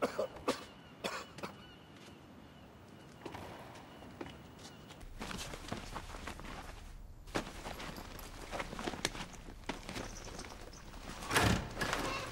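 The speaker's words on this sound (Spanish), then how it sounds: "Vuelva a toser." Several dry coughs from a patient in a prison infirmary in a Spanish period drama, scattered among footsteps and room noise at moderate loudness.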